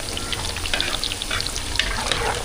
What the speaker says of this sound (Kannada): ಎಣ್ಣೆಯಲ್ಲಿ ಇದನ್ನು ಫ್ರೈ ಮಾಡ್ಕೊಬೇಕು.